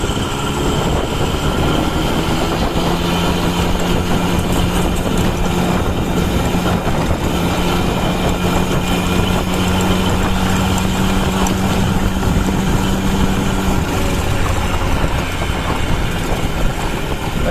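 A twenty-year-old TVS Champ 50cc moped engine drones steadily as it accelerates during a speed test, a loud, continuous buzzing hum with constant road and wind noise throughout.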